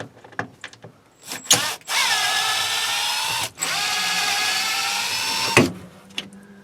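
A power screwdriver unscrews Phillips screws from the third brake light of a 2003–2006 Chevy Tahoe. It gives two long, close whirring runs with a rising then falling pitch, set off by sharp clicks and clunks, with no talking.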